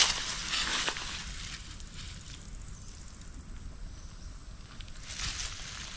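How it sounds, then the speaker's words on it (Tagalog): A horse chewing a stalk of sugarcane close up, giving steady, wet crunching and grinding bites that run through the whole stretch, with no talk. "Nakain na pa yung tubo ng kabayo."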